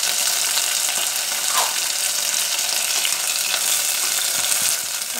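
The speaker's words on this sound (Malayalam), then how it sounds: "കറിവേപ്പിലയിൽ അല്പം വെള്ളം ഉണ്ടായിരുന്നു എന്ന് തോന്നുന്നു, അതാണ് ഇങ്ങനെ പൊട്ടുന്നത്." Damp curry leaves hit hot oil in a pan of frying onion and garlic for a jackfruit-seed stir-fry, giving a close, steady hiss dotted with sharp pops and crackles.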